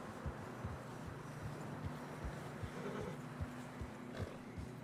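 Steady muffled hoof thuds of horses plodding at a slow, regular pace through fresh snow in Red Dead Redemption 2, with a low windy rumble underneath.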